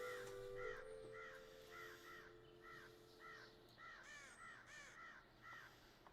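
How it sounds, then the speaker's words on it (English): Crows cawing repeatedly in the medieval colony-building game Going Medieval, a steady run of harsh caws in quick pairs and triplets over a low ambient hum and faint background music, moderately distant and never letting up. "those birds are just going nuts"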